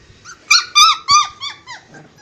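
Puppies give a quick run of high, squeaky whines and small growls, close and fairly loud, several short squeals in a row without talk.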